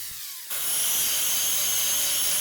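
A belt grinder rounds the tips of a forged steel hammer drift, giving a steady, loud, high abrasive whine that starts abruptly after a quieter half-second and runs continuously with no talking.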